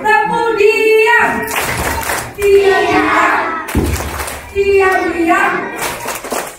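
A group performing the 'tepuk diam' clapping chant: voices chant in rhythm alongside sharp clapped beats and thumps, in two rounds separated by a sudden break.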